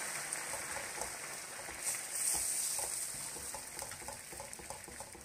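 Chicken broth poured into a risotto with small vegetables over lowered heat, bubbling and sizzling softly in the pan while a spoon stirs it in scattered light scrapes, fairly quiet and continuous.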